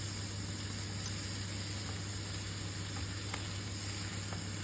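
Eggs and prawns with spices, cumin powder among them, fry in a pan with a constant close hiss and crackle, a few soft stirring clicks breaking through the even sizzle.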